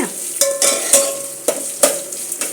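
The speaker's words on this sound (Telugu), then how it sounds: "ఉల్లిపాయ కరివేపాకు పచ్చిమిరపకాయలు కూడా ఒక 5 నిమిషాలు వేగితే" Onion, curry leaves and green chilies fry in oil, with close, sharp clacks of a spoon striking the pan at irregular intervals over a soft sizzle.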